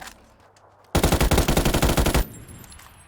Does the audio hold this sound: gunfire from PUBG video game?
yes